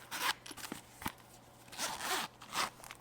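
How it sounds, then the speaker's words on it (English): Zipper on the middle pouch of a work bag being opened, several quick rasping pulls in close succession, near and fairly loud with no talking. "And then there's a zipper"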